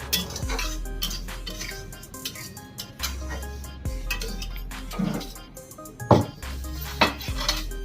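Dishes and a metal plate clinking as vermicelli is scooped from a kadhai onto a plate, a string of sharp scattered clinks and scrapes with a few louder knocks, close by and without talk.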